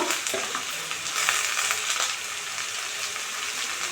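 A spatula stirs food in a pan with turmeric powder and salt, giving a steady, close scraping and frying hiss with short sharper scrapes scattered through. No one speaks.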